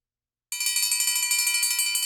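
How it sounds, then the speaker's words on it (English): After half a second of silence, an electric school recess bell starts ringing continuously with a rapid metallic rattle that holds steady until the end. "The morning recess bell rang"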